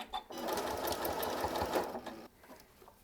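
A Janome M8 sewing machine running a back stitch, a steady close motor whir with rapid needle clatter lasting about two seconds, then stopping.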